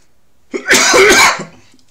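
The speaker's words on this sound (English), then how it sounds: "sorry for the cough" A single loud, harsh cough bursts out close to the microphone, about three-quarters of a second long with a rough tail, isolated between stretches of quiet during an accounting lecture.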